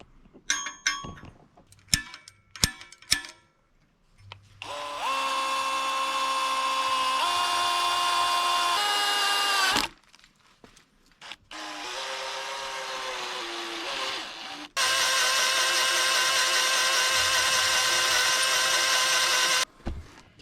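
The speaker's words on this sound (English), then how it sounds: "let's see if I can poke an 1/8 inch drill bit through there, and then try and ream that hole back out with this here step bit" Power drill boring through a used riding lawn mower's metal with a 1/8 inch bit, then reaming with a step bit: a few short clanks, then long loud steady whining runs of the drill, broken by brief pauses.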